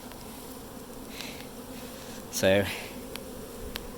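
A honeybee swarm buzzing around a hive, a dense steady hum throughout with a brief louder close buzz of a bee passing near, and a short spoken word partway in.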